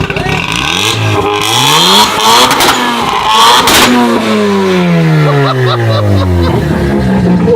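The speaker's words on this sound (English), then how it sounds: "Can you rev it a little bit?" The Mazda RX-7 from Fast and Furious, fitted with a VeilSide widebody kit, revs loudly close by, its engine note sweeping up and down in repeated rising and falling pulls while people talk in the background.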